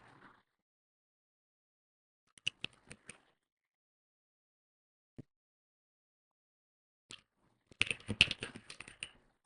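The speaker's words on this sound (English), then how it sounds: "I use a shortcut for this, so just type it out." Sparse keystrokes on a computer keyboard while entering a command in a coding session, with a few isolated clicks early, then a quick, close flurry of typing toward the end in an otherwise quiet room.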